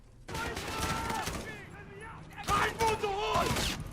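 Gunfire in a video game shooter match, a short volley at the start followed by scattered shots, with someone talking excitedly over it.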